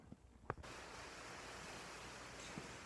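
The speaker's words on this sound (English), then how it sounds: "as I make this video, we're getting a little shower" Light rain shower falling on grass-fed cattle pasture out on the plains, a soft steady hiss of drops that begins abruptly and continues evenly, with a faint tap or two early on.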